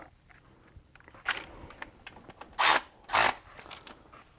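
Small fasteners on a BMW X3 E83 water pump being tightened with a wrench in a crisscross pattern, giving a few brief ratcheting clicks and short metallic bursts amid quiet handling noise.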